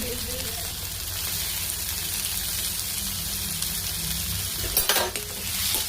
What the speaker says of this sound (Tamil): தக்காளியை போட்டு நல்லா வதக்கிக்கோங்க